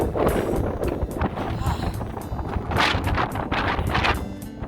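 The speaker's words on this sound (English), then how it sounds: "it's kind of windy up here and cold" Strong, cold gusty wind on Franconian Ridge in New Hampshire's White Mountains buffets the microphone in a steady roar, rising and falling in loud gusts throughout.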